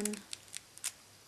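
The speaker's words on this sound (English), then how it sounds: "you're going to want to cut the tape in half, all the way down" Scissors snip down the middle of a strip of nail art tape in a few short, crisp cuts, close and fairly quiet, with a brief low rustle at the start.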